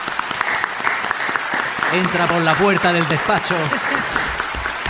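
A studio audience applauds a guest on a Spanish TV show, sustained clapping throughout while someone speaks over it in the middle.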